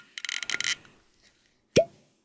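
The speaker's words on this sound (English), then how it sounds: "let's see what we got here with my cork pop" A cork pops out of a bourbon bottle, a single short, hollow plop that stands out alone after quiet, preceded by a brief burst of rustling and handling noise.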